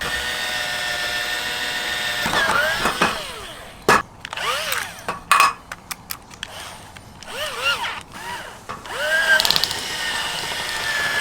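A weakening cordless power drill with a dying battery drives screws into a rear hatch molle panel on a 100 Series Land Cruiser, whining in several short, slowing bursts with clicks and pauses in between.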